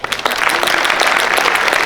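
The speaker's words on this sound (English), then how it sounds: "Warm round of applause for Delta." Audience applause at a museum pitch event, steady dense clapping from a crowd, loud and close, continuing throughout.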